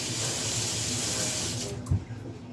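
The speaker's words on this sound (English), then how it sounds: "Let me rinse my hand real quick" Water from a tap runs steadily over a hand being rinsed at a kitchen sink, a continuous broadband splash that cuts off near the end, followed by a brief low thump.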